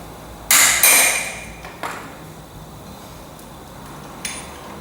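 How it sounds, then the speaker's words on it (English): Light metal taps on a Massey Ferguson TEA20 tractor under restoration: two sharp close strikes in quick succession, a third softer tap, then a faint final tick over quiet background hum. "Do a little bit of a tap."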